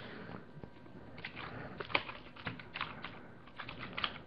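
Typing on a computer keyboard: a steady, moderately close run of soft, irregular key clicks with a few sharper taps, with no voices.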